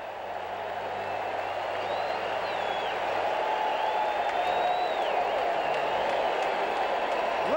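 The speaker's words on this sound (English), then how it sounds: "Listen to the crowd." A ballpark crowd at a White Sox baseball game cheers and applauds after a strikeout on a hard slider, a broad steady roar of clapping and voices that holds loud throughout.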